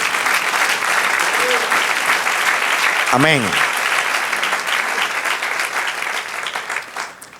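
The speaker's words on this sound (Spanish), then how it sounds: "Den un aplauso al Señor." A church congregation claps loudly and steadily, a dense sustained wash of applause that fades slightly toward the end, with a brief voice rising through it partway.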